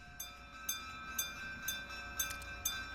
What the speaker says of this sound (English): Train's pulling up.